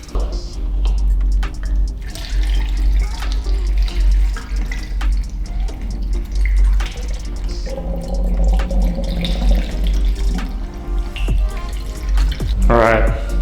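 Distilled water is poured into the cooling system of a 2018 Honda CBR 600RR, giving a continuous trickling, gurgling flow over a low background hum, with brief muffled voices in the middle and near the end.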